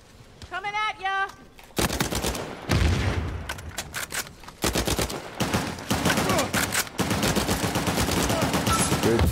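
Blind gunfire in Uncharted 4 multiplayer: rapid bursts of shots crackle through most of the stretch after a short beeping tone, loud and close, running in dense, uneven volleys with speech mixed in.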